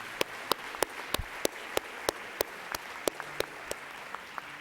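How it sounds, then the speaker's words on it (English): A conference audience at a corporate keynote forum claps along, with distinct sharp claps landing in a fairly regular rhythm over a quiet room murmur. "just give them a round of applause"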